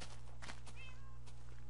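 A cat in the Minecraft video game gives a short meow near the middle, quiet over a steady low background hum.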